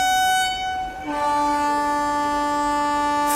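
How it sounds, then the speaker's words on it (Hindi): An Indian Railways train horn blares for departure at busy Nagpur station, a loud sustained multi-tone blast that drops and steadies partway through, close and alone without talk. "चलिए अपने डिपार्चर का हॉन्ग हो गया।"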